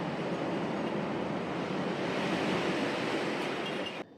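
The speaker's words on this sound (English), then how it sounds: "I have to have a disclaimer because it is extremely windy outside." Extremely strong wind roars outside in a continuous, loud broadband rush that holds steady, then cuts off abruptly near the end.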